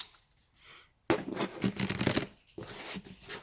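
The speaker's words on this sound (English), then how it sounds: "I'm just going to take a second to shuffle your cards" Tarot cards being shuffled in a brisk riffle after a near-silent pause, a dense flurry of flapping and rattling, then a shorter second burst.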